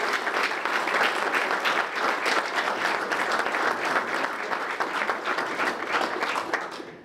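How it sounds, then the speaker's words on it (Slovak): Sustained, dense applause from a large audience at a tennis tournament gala evening in Poprad, Tatras, honouring the organizing team, loud and steady throughout before tapering at the very end. "Poprosím vás preto o veľký, zaslúžený potlesk pre všetkých,"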